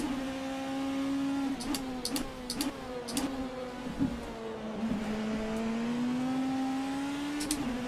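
A GT race car's engine in the rFactor 2 sim at Sebring drones steadily at high revs for the whole stretch, its pitch dipping and climbing through gear changes, with brief sharp clicks and pops cutting in now and then.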